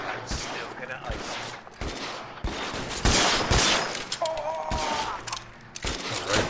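Rifle gunfire in the L.A. Noire video game, a dense fusillade of loud shots in a chaotic firefight, with a brief tonal whine midway and voices speaking over the action.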